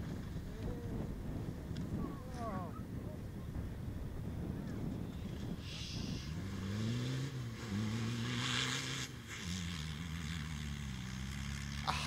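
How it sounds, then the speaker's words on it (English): A rally car at a forest stage event spins at high speed, its engine rising and falling through several revving bursts heard from a distance under heavy wind noise. "A high speed spin, well recovered from without losing too much time"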